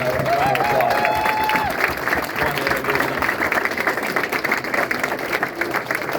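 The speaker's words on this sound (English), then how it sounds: "Give Dawn a round of applause." A crowd at a Tim Ryan campaign rally applauds in a sustained, loud wash of clapping, with a few cheers and voices mixed in.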